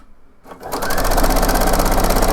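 A sewing machine starts up and settles into a fast, even stitching whir on blouse fabric, close and loud with no talking.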